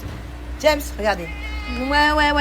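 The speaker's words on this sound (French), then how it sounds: "Il y a un chat qui est là, vous le voyez hein." A cat nearby meows several times, with short cries followed by a longer wavering one, while a person talks over it.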